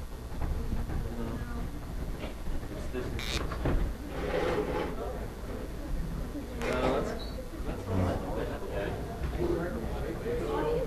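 Banging and knocking from a door being repaired nearby, with irregular thumps and scraping clatter scattered across the stretch over a steady background, while a person talks throughout.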